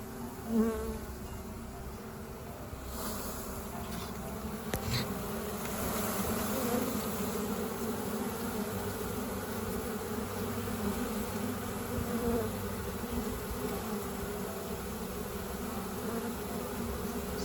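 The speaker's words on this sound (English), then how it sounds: "we've got our bucket of bees" A bucket full of swarmed honey bees, with chunky drones among them, gives a steady, dense buzzing hum that stays close and even throughout, with a few soft knocks of handling near the start.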